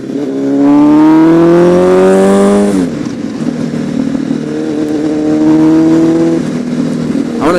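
A superbike engine revs hard and climbs in pitch to a high peak, drops, then winds up again, loud and close with no talk over it.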